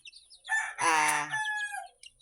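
A rooster crows loudly nearby in one long drawn-out call, with softer chicken clucks and calls around it from gamefowl, including a bulik rooster and a hen.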